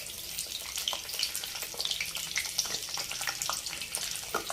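Drumstick pieces fry in oil in a thick, heavy pan, giving a steady close-up crackling sizzle with scattered pops that holds evenly throughout, no voices.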